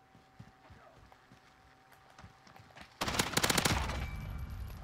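Gunfire erupts in a Call of Duty: Modern Warfare (2019) match, a dense, loud burst of rapid shots starting about three seconds in after quieter game ambience with faint footsteps.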